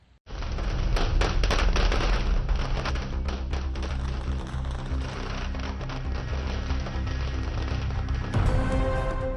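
Dense, continuous crackling bursts of firecrackers exploding nonstop, loud and close, with a fresh burst of sharp pops near the end.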